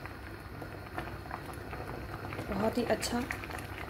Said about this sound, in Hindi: इसमें बहुत अच्छे से जो है वो बॉयल आ गया है